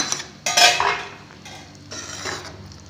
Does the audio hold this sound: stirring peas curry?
yes